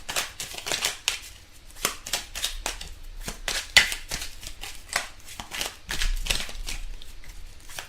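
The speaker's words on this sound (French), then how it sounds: "on va tirer des cartes" Tarot cards shuffled and drawn during a French card reading, a steady run of crisp, close riffling flicks and snaps with brief pauses, heard alone without talk.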